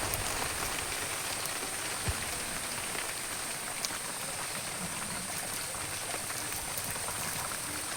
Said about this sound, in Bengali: ঝোলটা ফুটে উঠেছে টকবক করে